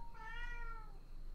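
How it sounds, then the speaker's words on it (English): A single drawn-out meow from a cat indoors, faint behind steady background noise, with no voices at the moment it sounds. "Sorry for the cat. He just woke up."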